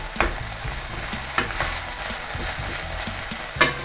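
Vegetables seasoned with herbes de Provence are stirred in a pot for green bean soup, giving a steady sizzle with a few sharp scraping knocks of the spoon against the pot, close and alone.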